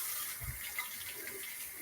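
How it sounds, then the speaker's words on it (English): Tap water runs into a sink during handwashing, a steady, fairly faint hiss and splatter that continues for the short span with no speech over it. "Let me wash my hands."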